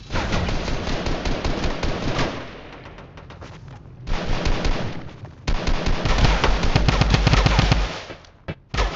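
Rapid automatic gunfire in Fortnite, loud dense bursts of shots that pause briefly and resume, continuing for several seconds with no talk over them.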